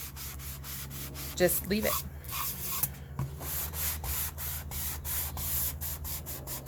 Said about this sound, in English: I'd get a higher grit sandpaper and do it even more than this.